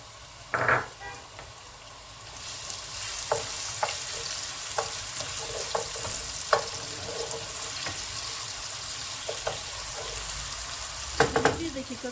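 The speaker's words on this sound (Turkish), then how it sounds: "Kızdırdığımız yağımıza soğanlarımızı ilave edelim." Onions dropped into hot oil burst into a loud, rushing sizzle that holds steady for several seconds, with intermittent utensil clinks and scrapes against the pan, close up and without talk.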